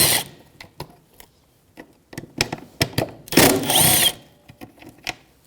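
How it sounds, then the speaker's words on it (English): A power driver with a Torx T20 bit reverses self-tapping screws out of the plastic around a marker light on a 2007-2017 Jeep Patriot 2.4L. Close, sharp clicks and rattles surround one sustained whirring burst of the driver. "you're just going to reverse those screws right out of the plastic"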